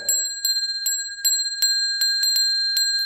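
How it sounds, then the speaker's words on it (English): A small bright bell rings again and again, about ten sharp metallic strikes at uneven intervals, each leaving a clear ringing tone, close and alone. "Then he rang the bell."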